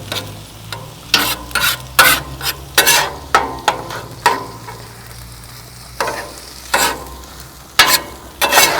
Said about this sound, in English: You want to break apart any clumps of rice that you have.